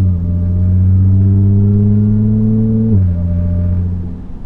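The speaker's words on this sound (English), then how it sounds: "this is the AWE Touring exhaust, so it definitely sounds really good" A deep, throaty exhaust from a 2010 Audi S4 with a supercharged V6 and AWE Touring exhaust idles and rumbles loudly, its pitch climbing slightly before dropping back, with no voices.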